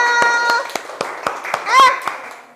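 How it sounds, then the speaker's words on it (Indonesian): A classroom of students claps after a teacher's prompt, a few sparse, separate claps spaced about a quarter second apart, with young voices talking over them. "Tepuk tangan buat kita semua"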